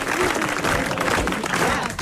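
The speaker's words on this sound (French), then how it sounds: "Applaudissez-le" Studio audience of a French radio comedy show bursting into applause, a sustained, dense clatter of clapping hands with faint voices mixed underneath.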